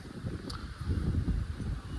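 Wind blowing at a waterside fishing spot during flat feeder fishing, a low, gusty buffeting rumble that swells and dips at moderate loudness, with no talk.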